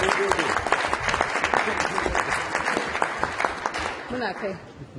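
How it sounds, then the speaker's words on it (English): Applause from the audience at a Nigerian family planning conference, a steady crowd clapping with a voice talking over it, fading out near the end. "I haven't seen you really clap for her"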